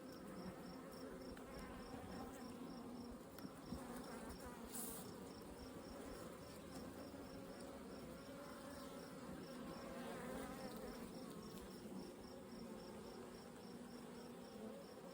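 Honey bees buzz steadily around an open hive with a brood nest and a little nectar, a dense, continuous insect drone close by, with no talk over it.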